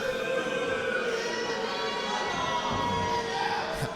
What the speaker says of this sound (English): The crowd not exactly enjoying the antics of Brandon Williams